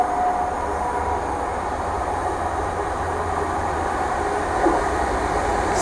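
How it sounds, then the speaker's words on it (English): A freight train rumbles past steadily, a low continuous roar of rolling wagons with a faint squeal near the end; no voices. "And it's a freight train."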